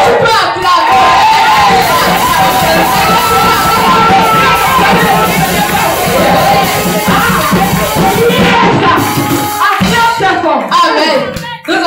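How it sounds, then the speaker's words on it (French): A church congregation cheers and shouts in loud acclaim throughout, with whoops and children's voices rising from a dense, sustained crowd roar that breaks off near the end. "Tu peux acclamer."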